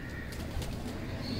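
Pigeons coo softly in a loft of red-eyed fancy pigeons, a low murmuring burble close by with faint rustling around it and no talk.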